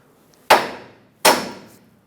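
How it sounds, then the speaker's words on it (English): Two sharp metallic hammer taps strike a drag link at a tie rod joint on a 2003-2009 Dodge Ram 2500, each loud and close with a short ringing decay, spaced under a second apart. "I have a hammer in my hand already, so I'm going to try and tap it up"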